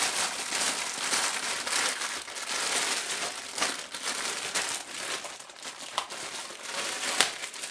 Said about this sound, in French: on a une belle pochette Seasonic avec tous les câbles qui sont rangés dans des petites pochettes en plastique. Et on va déballer tout ça